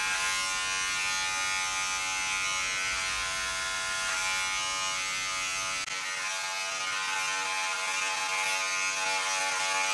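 Electric hair clippers buzz steadily and loudly at close range while cutting a man's hair at home, a continuous harmonic drone with a slight shift in tone partway through.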